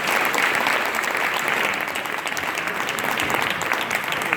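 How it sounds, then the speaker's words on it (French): Audience applause for the Ninja Storm pitch at the Odyssées des Entrepreneurs 2018: a dense, even wash of many hands clapping that holds steady throughout with no voices on top. "Applaudissements pour Ninja Storm."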